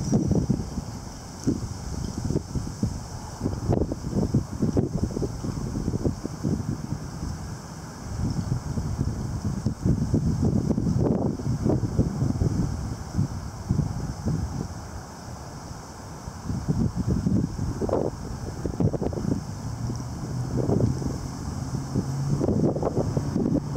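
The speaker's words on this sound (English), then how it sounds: "Thought this wind was done for, but looks like it came back a little bit." Gusty wind ahead of an October windstorm buffets the microphone with a continuous loud rush that swells and eases in waves over the whole stretch, with no voices heard.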